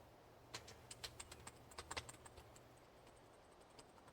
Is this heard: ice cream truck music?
no